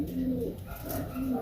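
A pigeon of the brintik breed coos close by in two soft, low calls, separated by a brief pause.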